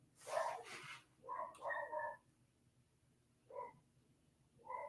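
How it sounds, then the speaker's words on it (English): An indoor pet dog barks in the background, a few short, faint bursts in two clusters separated by quiet pauses. "Please forgive my dog barking in the background."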